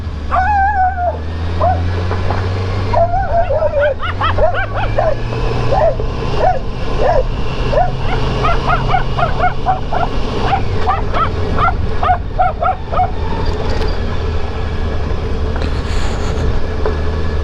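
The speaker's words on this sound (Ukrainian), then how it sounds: "Мене собаки облаяли, значить я їду туди," Several dogs bark and yip repeatedly at a middle distance over a constant low motorcycle engine drone, the barking thinning out toward the end.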